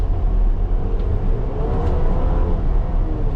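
Inside a 2024 GMC Acadia Elevation on the move, its four-cylinder engine gives a steady, loud low drone and road rumble with a faint whir and no talking.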